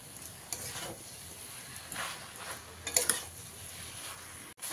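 Sugar is stirred into a pumpkin stalk curry in a pan, with soft scraping and faint sizzling plus a few light clinks of the utensil against the metal, all quiet and close.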